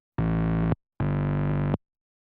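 Gritty, harsh distorted synth bass plays two sustained buzzing notes, each under a second long, separated by a brief gap and then silence, loud and dry.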